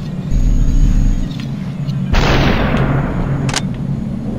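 Loud gunfire booms in the video game Superhot, one blast early and a second heavy shot partway through, each trailing into a sustained roar.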